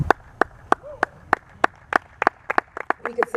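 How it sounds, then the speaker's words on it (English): Scattered hand claps from a small audience at a poetry festival reading, sharp and evenly spaced at first, then bunching toward the end, with a faint voice underneath. "We could save the applause at the end"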